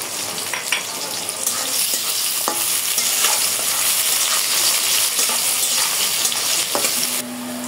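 Chopped onions fry in hot oil with bay leaf and garam masala, giving a loud, continuous sizzle with frequent stirring scrapes and clinks close by. The sound drops off sharply near the end.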